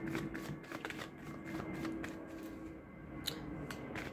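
Tarot cards shuffled continuously, a steady papery riffling and slapping with brief accents, close and moderately loud, no voices.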